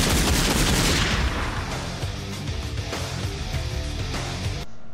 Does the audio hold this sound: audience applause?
no